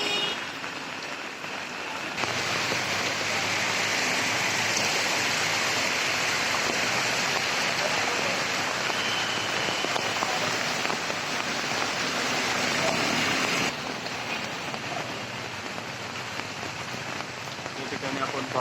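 Heavy monsoon rain pours down in Nalasopara, Palghar, over flooded streets, a dense, constant hiss of drops that swells louder through the middle stretch and then eases back.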